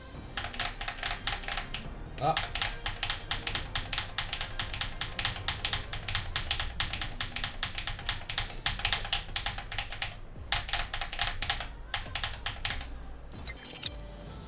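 Rapid, dense clacking of a mechanical keyboard played one-handed for Tekken 8 wavedash inputs, a near, steady flurry of keypresses running almost continuously with a few brief pauses and a short vocal exclamation.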